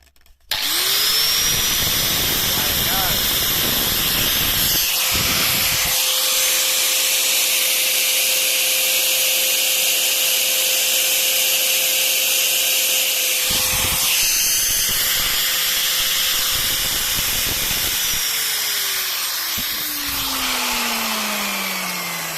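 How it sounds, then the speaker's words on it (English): An angle grinder running off an MG5 electric vehicle's vehicle-to-load outlet, starting up with a loud, steady high whine that holds for about twenty seconds with small shifts in pitch and then winds down, no cutting load and no talking. "Okay, I'm going to turn on the grinder."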